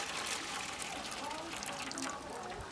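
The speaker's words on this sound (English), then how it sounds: "I tend to just fill it up from the kettle" Water poured from a kettle into the water tray of a Weber kettle barbecue, a steady trickling, splashing stream at close range running throughout.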